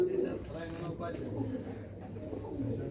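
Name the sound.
pigeons cooing in a loft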